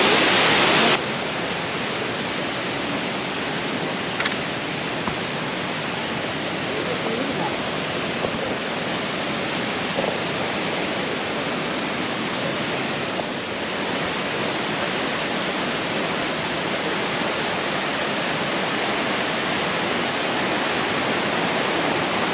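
Steady, dense roar of a waterfall at Kapatipola in Nuwara Eliya, Sri Lanka, rushing continuously and loudly with no break. No clear voices are heard.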